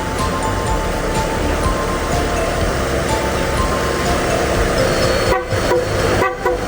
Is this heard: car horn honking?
yes